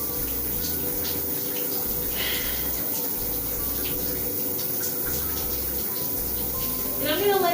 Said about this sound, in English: So I'm going to go ahead and increase that water to even colder.